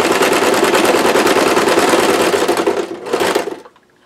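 A sewing machine runs loud and close as it stitches quilt binding strips, a steady rapid whir that pauses briefly, restarts for a short burst, then stops.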